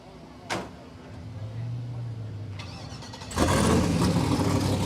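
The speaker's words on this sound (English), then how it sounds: "Start the truck up, Stevie." A street truck at an LS engine festival cranks over and fires up, with a short click, a whirring starter and then a louder rumbling engine settling into a rough idle, heard up close.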